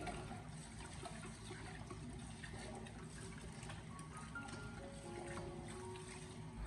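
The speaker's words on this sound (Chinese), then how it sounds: "將魚頭用流動的清水再一次的把它清洗乾淨" Running tap water pours steadily as a fish head is rinsed, a soft continuous splashing and trickling that stays fairly faint.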